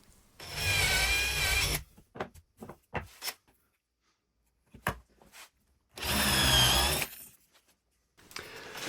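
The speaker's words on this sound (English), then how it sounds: "I'm just drilling a 5mm hole around the four corners roughly of where the finished piece will be, all through the 6mm ply" Power drill boring 5mm holes through 6mm plywood into thicker ply beneath, in two loud whirring bursts of over a second each, separated by quiet clicks and handling knocks.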